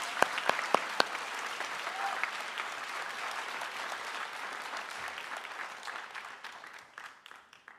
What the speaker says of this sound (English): I would just like to congratulate Ellie and give her a round of applause.